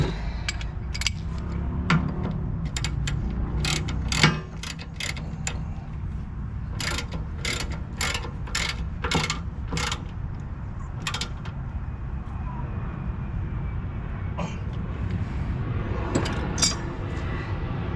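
A hand ratchet clicks in quick bursts as it tightens a bolt on a Bobcat 873 skid steer, with close, sharp metallic ticks separated by short pauses and no talking.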